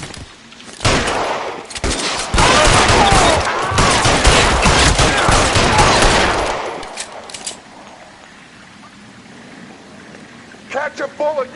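Loud, close gunfire in an L.A. Noire shootout: dense, rapid bursts of shots run for about six seconds, then give way to a quieter stretch with faint voices.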